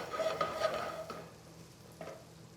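Garlic and shallot sweating over low heat in a pan, a soft, gentle sizzle with a few light stirring scrapes near the start, fading to a quiet hiss.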